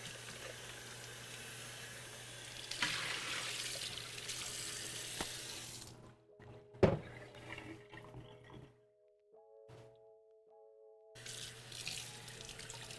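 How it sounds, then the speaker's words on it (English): Tap water runs in a kitchen sink to rinse out a blender jar of sweet carrot puree, a steady loud splashing rush that cuts off partway with a clunk, leaving a quiet hum, before the flow starts again. "Give that a rinse so it doesn't get all sticky"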